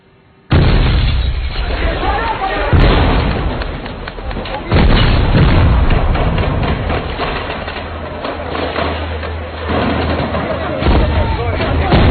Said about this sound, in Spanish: Los comandos tienen que acabar su operación con la explosión en la puerta principal en 8 segundos.